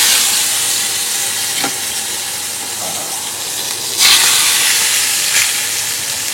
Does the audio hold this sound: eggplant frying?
yes